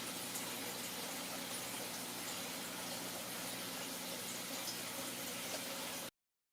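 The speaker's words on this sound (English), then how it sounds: "So then I can water it and it will stay a little bit more moist" Water pours steadily onto a repotted plant in an airy potting mix, a continuous close rushing splash that stops abruptly.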